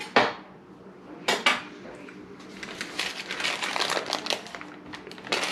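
Chocolate no-bake dessert being scraped back into a bowl, with sharp clinks and clatters of a utensil against the dish followed by a run of softer scraping and tapping, close and fairly quiet.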